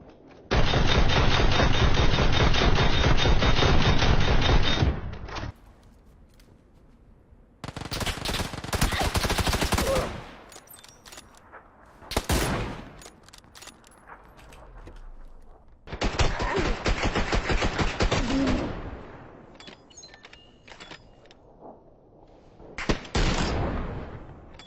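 Bursts of automatic gunfire from a PUBG or CS:GO shooter, long sustained volleys alternating with short rapid bursts, loud and close, with quieter gaps between.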